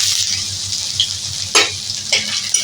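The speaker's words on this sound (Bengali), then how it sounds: "সামান্য একটু জিরা ফোড়ন দিচ্ছি, নাড়িয়ে নিচ্ছি। আদা গ্রেট করে রেখেছি, এটা দিয়ে দিচ্ছি" Cumin seeds and grated ginger sizzle hard in hot oil with a bright, continuous crackle, broken by a couple of short scrapes and clatters as the mixture is stirred in the pan.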